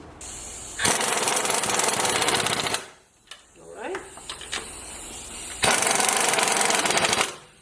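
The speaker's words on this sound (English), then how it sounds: "this is the torque stick that we need to use to tighten up those lug nuts" An impact wrench fitted with a torque stick hammers van lug nuts tight in two loud sustained rattling bursts, with brief clinks and handling of the socket between them.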